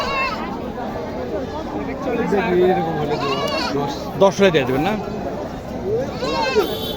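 Goats bleat amid a busy livestock market in Naogaon, wavering calls rising over a crowd's chatter while traders bargain nearby.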